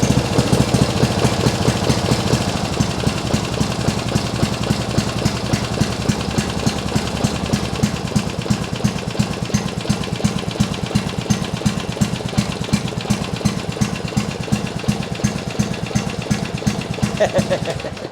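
An old car engine runs steadily at idle with a rough, rapid mechanical pulse, loud and close throughout, with some voices faintly present beneath it.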